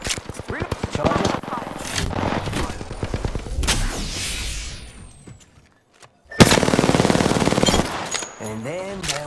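Rapid automatic gunfire rattles in Apex Legends, with fast, loud bursts, a brief lull, then another heavy volley, while voices speak over the shooting.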